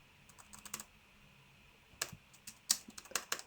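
Keys clicking on a computer keyboard during a music production workshop while levels are set, with a few light taps early and then a denser burst of close, crisp keystrokes toward the end, no talking.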